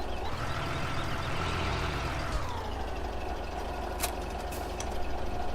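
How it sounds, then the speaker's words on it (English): A truck engine in Farming Simulator 17 drones steadily and loudly at close range, with a couple of short, sharp beeps near the end. "the truck sounds kind of weird to me"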